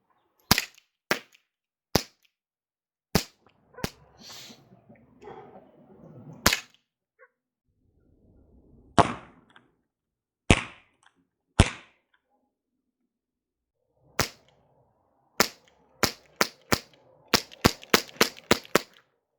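A Hatsan H-1911 air pistol fires sharp, loud cracks one after another with irregular gaps, ending in a quick cluster of shots, with no talking.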